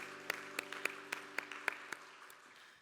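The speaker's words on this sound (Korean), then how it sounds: "서로를 격려하면서 박수하겠습니다." A church congregation claims at a Sunday young-adults worship service, a sparse scattering of distinct hand claps in a steady patter that fades out over a few seconds, with no one speaking.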